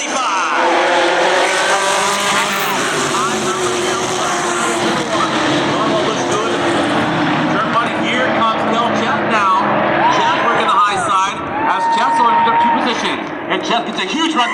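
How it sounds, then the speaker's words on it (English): Vintage modified race cars roar around an oval track at the start of a race, engines snarling and rising in pitch as the pack passes, continuous and loud under an excited announcer's commentary. "Troy Blanton has the green flag in hand. And we are racing in"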